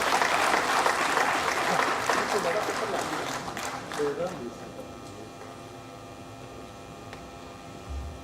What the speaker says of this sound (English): May we appreciate our distinguished resource person with a round of applause.